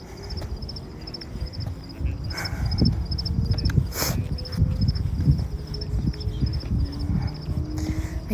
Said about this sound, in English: if I can give the crickets and all the creatures of the night a microphone so you guys can hear how incredible this is